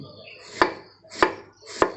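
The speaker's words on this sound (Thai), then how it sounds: "อันนี้เราก็ มายำ เราก็ต้องหั่น" A knife chops through banana stem on a cutting board for a Thai vegetarian salad, three crisp evenly spaced cuts close up.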